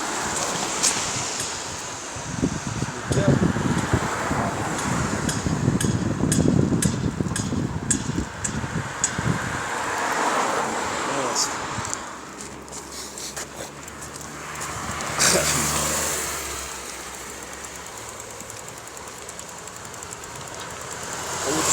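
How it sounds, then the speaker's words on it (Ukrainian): An excavator works nearby in an urban residential area, a broad rumbling, rolling mechanical roar that rises and falls with bursts of clanking and grinding over about twenty seconds. "Працює екскаватор там, пробирається."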